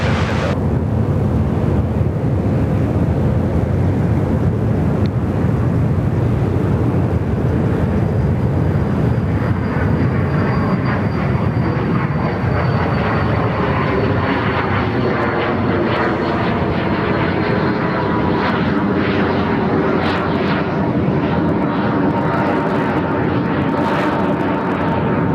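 A Pilatus PC-24 business jet takes off at Sydney Airport, a loud sustained engine roar with a whining turbine tone that sweeps gradually as the jet rotates and climbs, steady throughout with no talking.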